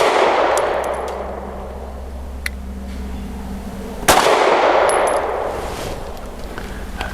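Gunfire from a Grand Power Q1S pistol at a shooting range: one sharp, loud shot near the middle and a fainter crack earlier, set against a steady roar of range noise.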